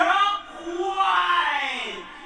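A vocal sample time-stretched in the Koala Sampler phone app using its modern stretch mode plays as a smooth, gliding sung phrase with sliding pitch, clear and fairly loud, with no other sound.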